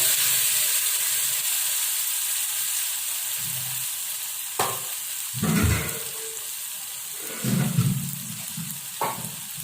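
A pan of masala fries with a loud, constant sizzle as ground tomato paste goes in, with a few stirring scrapes and bubbling spurts rising over the hiss.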